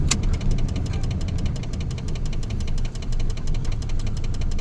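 A diesel truck engine idles nearby with a steady, rapid knocking rhythm and low rumble that continues throughout.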